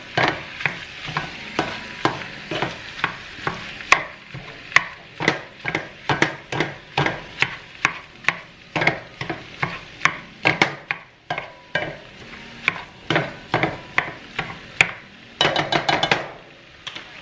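Beef seasoned with garlic powder and onion powder frying in a pan, stirred over and over, giving a rhythmic run of sharp scraping strokes against a soft sizzle, close and clear.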